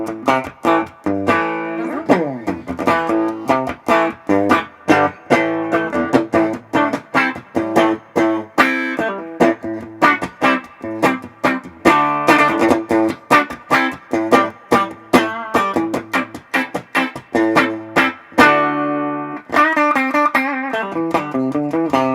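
Clean electric guitar with a bright, twangy tone from the bridge humbucker of a Squier Affinity HSS Stratocaster, a steady run of picked notes and chords played alone, ending on a sustained strum.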